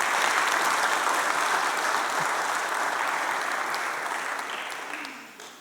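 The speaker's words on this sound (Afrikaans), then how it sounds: "kom ons gee hulle nog 'n lekker hande klap, julle" Sustained audience applause after a call for another round of clapping at an Afrikaans church gathering, steady and dense for several seconds before tapering off near the end.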